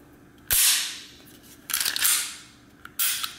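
An M&P Shield 45 ACP pistol handled after about 200 rounds at the range: three sharp metallic snaps, the slide released and slamming back into battery, each with a short bright ring-off, close and loud with no talking.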